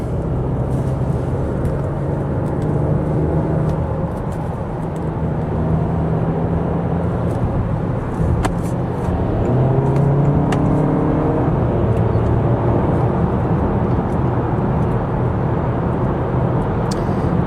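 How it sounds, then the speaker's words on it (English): A 2026 Audi Q3's 2-liter turbo engine accelerates onto a highway, heard as a muffled in-cabin drone with a steady road rumble; the engine pitch climbs and steps through quick gear shifts. "get on the highway here and see what this 2-liter turbo can offer us now with its boost in performance"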